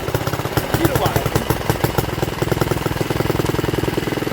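A Barford Atom engine runs close by with a rapid, steady mechanical chugging, loud and rhythmic throughout, while someone talks over it.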